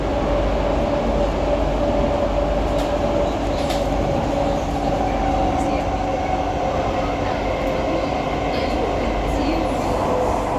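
A steady, loud rumble of a Singapore MRT Downtown Line train in motion, with a faint whining tone and occasional high squeals from the wheels, heard from inside the carriage.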